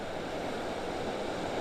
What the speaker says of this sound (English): standing here watching this surf